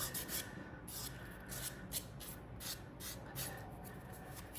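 The edges of a small handmade shoe are sanded by hand with quick, even back-and-forth strokes, heard as soft, close, rhythmic rasping with no talk.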